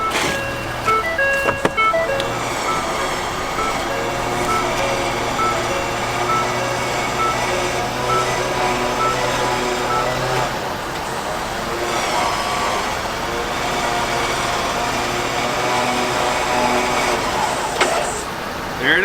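A Ford factory Warn winch runs with a steady electric whine and hum lasting throughout, close by, with a speaking voice joining over it at times.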